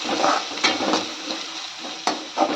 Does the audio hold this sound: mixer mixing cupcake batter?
no